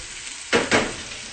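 Fish hits a hot pan in two quick loud sizzling bursts over a steady low frying hiss, close up, with no talking.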